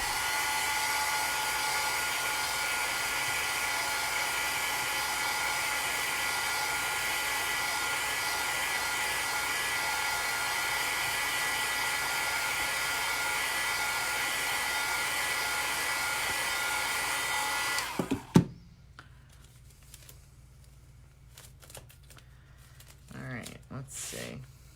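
A hair dryer dries a dollar store craft project, blowing steadily at close range for about eighteen seconds before clicking off, leaving faint handling rustles afterward.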